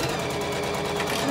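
A sewing machine runs steadily while stitching a fabric pouch, making a brief, even mechanical whir with a faint voice speaking over it.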